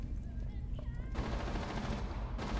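Rapid gunfire in a Rainbow Six Siege match bursts in after a quieter opening, with dense automatic shots that start abruptly and keep going, fairly close, and players talking through the first part.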